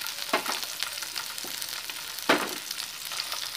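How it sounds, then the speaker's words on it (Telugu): Ginger, garlic, peas, carrot and green chilli sizzle in a hot pan for paneer fried rice, with a steady fry crackle and a few sharp scraping stirs near the microphone. "గ్రీన్ చిల్లీ వేసి ఒక 5 మినిట్స్ ఫ్రై చేయాలి."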